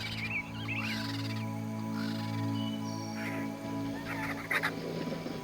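Birds call from the tall trees of the Everglades, with honking, goose-like cries and scattered chirps over a steady low drone.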